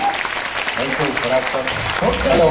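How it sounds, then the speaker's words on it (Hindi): Audience applause welcoming a speaker at a training event in an Ahmedabad club hotel, a continuous wash of clapping with voices talking and calling out over it. "अगर वो हो गया एक बार जोरदार एनर्जेटिक तालियों से मैं वेलकम करता हूं"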